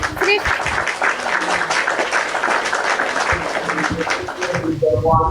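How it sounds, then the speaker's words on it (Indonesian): A small studio audience claps for a guest during a talk show, a steady, moderately close patter of hands that continues for several seconds before a voice cuts in at the end. "Kita kasih tepuk tangan dulu sama Mami Obet nih."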